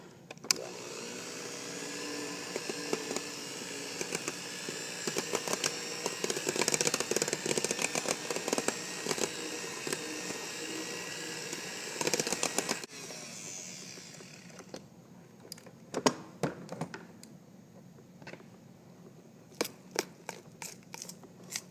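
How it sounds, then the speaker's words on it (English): A loud electric stand mixer whips batter, whirring steadily for several seconds, then cuts off, followed by scattered clicks and clattering sounds. "now I'm just going to reach over and grab our mix master"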